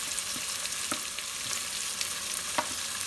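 Potatoes frying with spices in a pan for an egg and potato curry, a steady close sizzle broken by a few sharp stirring scrapes and clicks, no voices.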